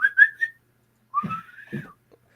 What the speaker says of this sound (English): they're just telling me they want me to whistle